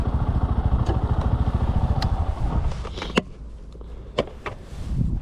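A Bajaj Boxer BM150 motorcycle engine idling while parking in Kyiv, a steady low chugging putter that softens partway through, with a few sharp clicks and clatters.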